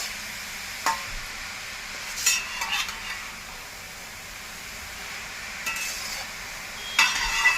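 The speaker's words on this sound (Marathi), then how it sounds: "छानपैकी तुपात परतून घेऊया" Grated carrot being sautéed in ghee for traditional carrot halwa: a steady low hiss runs throughout, with a few scraping stirs near the start and another at the end, and no talk.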